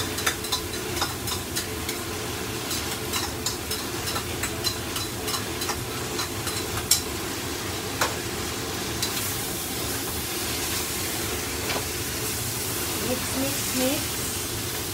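Goat kaldereta in tomato sauce bubbles and sizzles in a pan as it is stirred, with a steady frying hiss and repeated scraping clicks of a spoon throughout.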